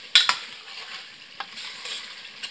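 Black chickpeas stir-roasting in a pan over high heat, opening with two quick loud scrapes of a spoon, then a low hiss and a few lighter scrapes, close by with no voices.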